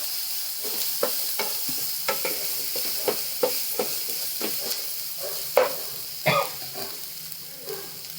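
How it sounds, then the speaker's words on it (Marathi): Ground masala paste sautéed in a pan for patodi rassa, a constant soft sizzle broken by regular spoon scrapes and taps, with a louder clatter near the end. "आता हे वाटण टाकते वाटलेलं हे चांगलं परतून घ्यायचं याचा कच्चेपणा जाईपर्यंत"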